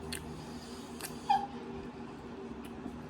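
A dog whimpering softly while wanting fruit, one brief high whine close by amid quiet background noise.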